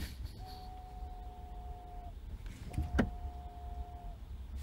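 A 2001–2009 Volvo S60 ATE brake booster vacuum pump whines in two steady electric runs of about two seconds each, heard close from the engine bay with a short knock between them.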